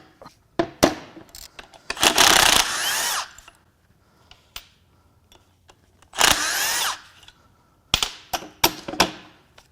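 A power tool, likely an impact driver, cracks loose bolts on a Volvo twin-charged engine in two loud bursts of whirring rattle, surrounded by sharp clicks and clanks of sockets and tools.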